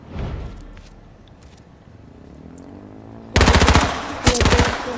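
Machine-gun fire in the video game H1Z1: after a stretch of quiet, low background, two loud, close rapid-fire bursts rattle out, the second one brief.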